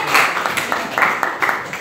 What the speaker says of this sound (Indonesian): Mari kita beri apresiasi, siap untuk tepuk tangan